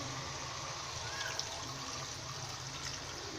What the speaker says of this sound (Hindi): तो थोड़ा सा पानी ऐड करेंगे।